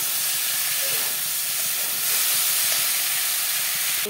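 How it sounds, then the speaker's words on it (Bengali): Masala being sautéed with fried cauliflower and potato gives off a steady, loud hiss and sizzle from the pan, continuous and close with no talk. "দিয়ে দিলাম ফুলকপি আলু ভাজা। ভালো করে কষাবো মশলা।"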